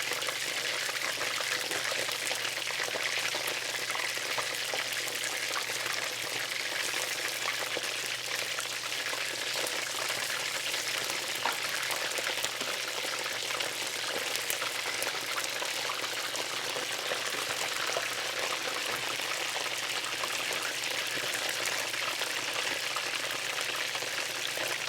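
Chicken wings fry in a pan, giving a dense, loud, unbroken sizzle and crackle of hot oil that holds steady throughout without talk.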